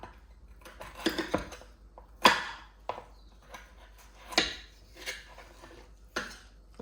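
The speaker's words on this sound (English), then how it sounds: "So you just cut them into tiny, pieces like that." Goat meat is chopped into tiny pieces for pepper soup, heard as a handful of sharp, separate knife strikes against a board at an uneven pace, close and fairly quiet, with no talking.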